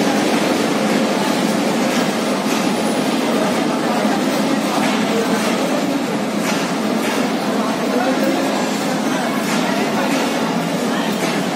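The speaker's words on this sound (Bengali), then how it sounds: "আর ওই যে রেলগাড়ি চলে যাচ্ছে।" A passing train rumbles through Rajshahi railway station in Bangladesh as a steady, loud roar that holds unbroken throughout, with crowd noise and voices mixed into the din.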